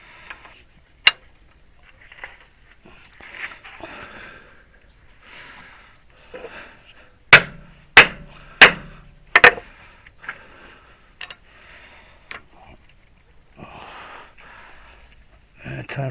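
Sharp metallic hammer taps on a stuck hydraulic cylinder pin of a Case 580 backhoe: one lone strike, then a quick run of four loud blows, with quieter knocks and people talking low in between.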